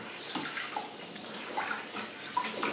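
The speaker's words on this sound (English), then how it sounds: "I just take a little bit of water over here, right here, and I just run it over it and rinse it" Water runs from a tap over green leafy vegetables, with uneven splashing and gurgling as the leaves are rinsed close by.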